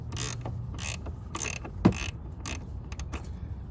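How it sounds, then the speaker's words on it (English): Ratchet wrench spinning a bolt off a car's front strut assembly: a run of quick, close clicking bursts in an uneven rhythm, with a brief metallic knock partway through and no talking. "we'll spin it off with this ratchet wrench."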